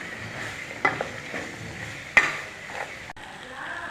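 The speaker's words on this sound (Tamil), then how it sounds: "நல்லா வதங்குது." Crab masala sizzles and sautés in a pan, with soft continuous frying hiss and a few sharp clinks and scrapes of the stirring spoon against the pan.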